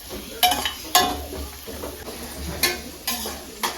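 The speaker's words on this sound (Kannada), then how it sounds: "ಚಂದ ಎಣ್ಣೆಯಲ್ಲಿ ಫ್ರೈ ಮಾಡ್ಕೋಬೇಕು" Food frying in oil in a pan for fried rice, a steady low sizzle punctuated by sharp clinks and scrapes of a utensil stirring against the pan at irregular intervals, close and clear with no talking.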